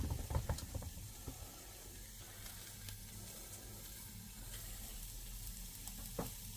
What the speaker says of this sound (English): I've just turned the heat up on the pan.